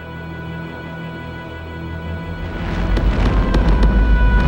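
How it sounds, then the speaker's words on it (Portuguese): Volcanic explosions during an eruption near Plymouth, a deep rumbling roar that builds and grows louder midway, with sharp cracking bursts over the low thunder. "E as explosões ainda continuam."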